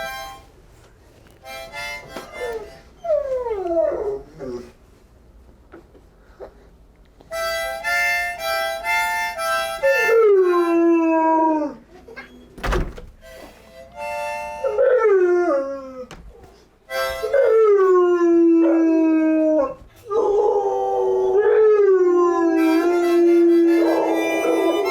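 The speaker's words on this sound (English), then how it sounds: "I play on harmonica and he sings." A pet dog named Hulk howls and yips in long wavering, rising-and-falling cries alongside a harmonica's sustained reedy chords, the two trading phrases loudly and close up.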